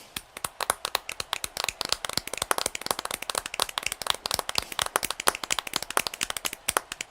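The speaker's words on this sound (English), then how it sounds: "There we go, that's actual applause." Steady applause from a crowd in a NASCAR Heat 5 racing game at Atlanta, many quick overlapping claps forming a dense, rhythmic patter that continues without pause.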